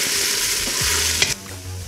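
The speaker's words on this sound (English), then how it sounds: "You can hear the frying sound." Minced vegetables fry in a pan with a crisp, steady sizzle, close and clear, with a brief stirring scrape near the end and no one speaking.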